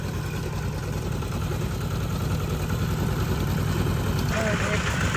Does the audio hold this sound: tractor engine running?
yes